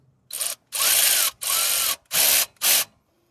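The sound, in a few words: ratchet tightening distributor clamp on 1962 International C-100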